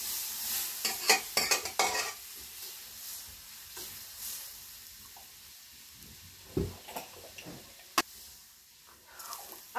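Yellow chana dal being stirred into a sizzling tempering in a home kitchen: a steady frying hiss with repeated scraping stirs and occasional clanks of the spoon against the pot.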